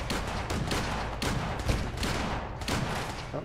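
Loud, dense shotgun fire in a modded video game, several overlapping blasts in quick succession forming a continuous, harsh roar with no talking.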